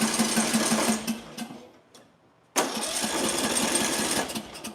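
A small gasoline engine is cranked over repeatedly with the choke pulled back and the coil air gap in question, and it does not fire. A rapid chugging rattle is broken by a short pause, then resumes close and loud.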